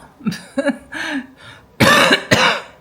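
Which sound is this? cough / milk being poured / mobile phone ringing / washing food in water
cough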